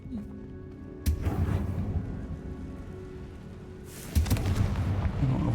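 In the video game Hogwarts Legacy, a Confringo fire spell blasts out in two sharp booming explosions about three seconds apart, each leaving a rumbling tail over steady background game ambience.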